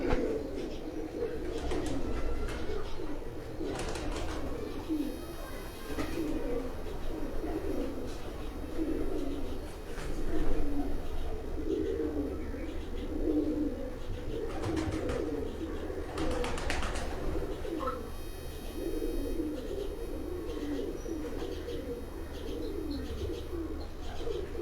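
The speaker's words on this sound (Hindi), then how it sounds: "फैसल साहब इन्हीं कबूतरों से आगे कबूतर तैयार करके अपने शौक़ की आबियारी कर रहे हैं।" Steady, soft cooing of many pigeons fills the background, with occasional chirps and flutters throughout, no talking.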